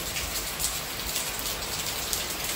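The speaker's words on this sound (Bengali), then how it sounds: "দেখো, আর এদিকে মুষলধারে পড়ছে জল, এত জল আসছে" Heavy monsoon rain pours steadily and loudly onto surfaces during a bus ride, a dense unbroken hiss of drops with no voices over it.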